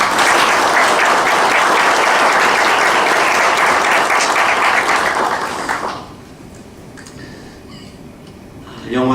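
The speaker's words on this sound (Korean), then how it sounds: "우리 새롭게 시작하는 우리 성가대 친구들에게 여러분 격려의 박수" Loud, dense clapping fills a Hanyang University chapel service as the congregation welcomes new choir members, holding steady for about six seconds before dropping to a quiet room with faint scattered sounds.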